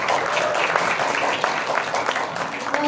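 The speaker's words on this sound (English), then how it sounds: "A warm round of applause for Mr. Teodorico Catisoy Tigia." A dense, steady round of applause from a panel discussion audience, many hands clapping at once at an even level and sustained without a break.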